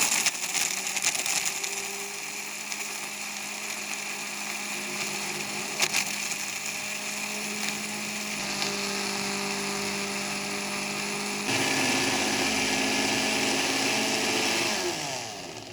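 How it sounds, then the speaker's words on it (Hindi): An electric grinder runs steadily as it grinds a half batch of chaat masala spices, a loud close whine with a gritty buzz that briefly shifts higher and harsher toward the end. "आधा आधा करके हम इसको ग्राइंडर करेंगे"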